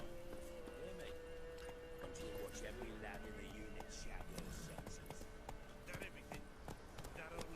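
Faint, rapid hoofbeats of a galloping horse run through a dense, busy soundscape in The Witcher 3: Wild Hunt, with a voice speaking quietly over it.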